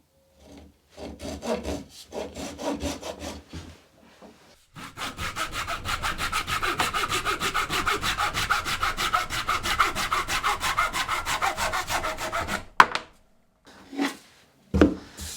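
A handsaw cutting wooden stool legs along marked lines: a few short tentative strokes, then a long steady run of rhythmic rasping back-and-forth strokes, close and loud, ending with a couple of knocks.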